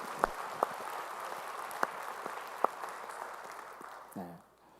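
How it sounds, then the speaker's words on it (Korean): A church congregation claps together during a Sunday worship service, giving a steady, moderately loud wash of applause with a few sharper claps. The clapping fades out at the end. "우리 찬양할 주님께 영광의 박수 올리겠습니다."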